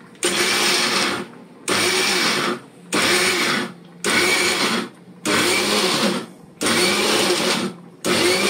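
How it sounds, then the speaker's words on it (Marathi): A kitchen mixer grinder coarsely grinding soaked dal with a pinch of cumin runs in six loud, whirring pulses, each lasting about a second with short silent gaps between, close up and without talk. "आणि आता ही आपल्याला खरबरीत अशी वाटून घ्यायची आहे"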